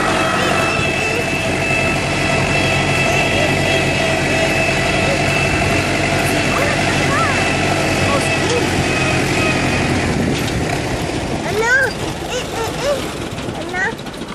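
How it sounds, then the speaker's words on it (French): Tractor engine running at an apple orchard, a steady, close mechanical drone and idle rumble that continues throughout while children and adults talk and call out over it. "On va faire un tour de tracteur?"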